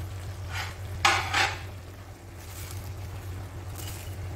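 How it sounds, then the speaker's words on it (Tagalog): Vegetables for pancit bihon with mushroom being stirred in a pan, with a few scraping utensil strokes against the metal over a steady low hum and light sizzle. "Haluin lang natin."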